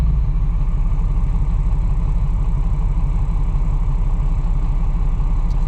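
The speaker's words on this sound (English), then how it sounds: "listen to this downshift" Whipple-supercharged 2024 Mustang GT V8, a steady loud low rumbling engine drone with a fast even pulse, close and continuous with no distinct rev change or talk.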